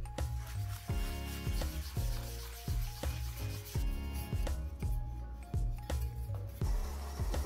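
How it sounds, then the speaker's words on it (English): A cover is hand sanded with sandpaper in a workshop, giving repeated scratchy rubbing strokes under steady, rhythmic background music. "I sanded the entire cover by hand with sandpaper to remove any remaining imperfections"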